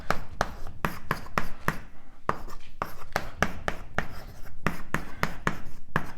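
Chalk or marker strokes as an equation is written out on a board during a cosmology lecture, a steady series of short sharp taps and scrapes in an irregular rhythm, close and clear with no talk.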